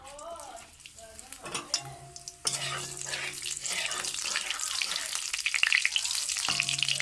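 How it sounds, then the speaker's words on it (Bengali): Cumin seeds hit hot mustard oil in a pan, a sudden bright sizzle that rises and keeps crackling steadily to the end, with a few clinks and faint background noise before it starts. "এবার এর মধ্যে দিয়ে দেবো জিরে, ফোড়নের জন্য জিরে।"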